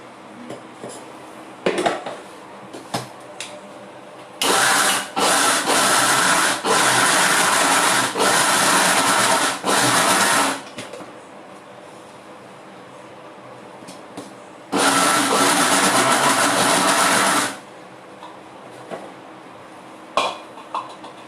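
A kitchen grinder whirs loudly through masala paste of soya and dates in two bursts, one long run of about six seconds and a shorter one of about three, separated by quieter clinking of utensils.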